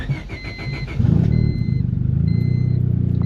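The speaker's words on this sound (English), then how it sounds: "Let's fire this thing up and go take it for a ride." A budget turbocharged car engine cranks and catches, then settles into a loud, steady, close idle with a rapid even pulse.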